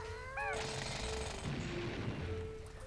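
Drilling in the Banjo-Tooie video game, a loud buzzing mechanical rattle that kicks in after a quick rising chirp and runs steadily for about two seconds before easing, over a sustained game tone, with no talk.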